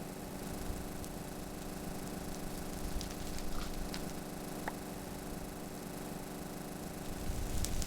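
Go-kart engine in a Minecraft video game, a quiet, steady idling drone with a faint buzzy hum and small clicks scattered through, no talking.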